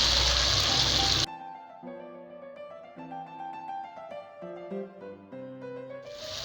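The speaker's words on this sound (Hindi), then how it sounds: "दाल ऐड कर रही हूँ।" Boiled chana dal, cooked in turmeric water with a little oil, goes into a hot pan with a loud, hissing splash that lasts about a second, then cuts away to soft background music.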